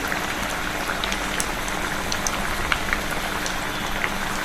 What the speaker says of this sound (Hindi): मीडियम आंच पर हमको इसको सेकना, जिससे कि अंदर तक ये सिक जाए।